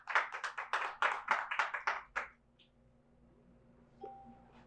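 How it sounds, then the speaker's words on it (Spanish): A church congregation breaks into brief applause, a quick burst of close hand claps lasting about two seconds before fading into a quiet room with a faint tone. "Denle un fuerte aplauso al Señor"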